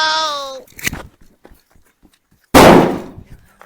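A sharp, loud firecracker blast bursts out after a short lull, its roar decaying over a second; a voice and some thumps come earlier.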